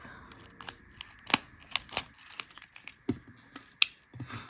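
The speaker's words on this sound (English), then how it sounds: "I'll take out my snips." Small snips cut Color Street nail polish strips, a string of crisp, close snipping clicks at an irregular rhythm in a quiet room.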